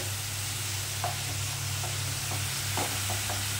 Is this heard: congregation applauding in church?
no